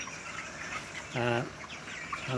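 A chicken on a farm of about 150 birds gives a short clucking call over a steady background hum, with fainter bird sounds scattered around it.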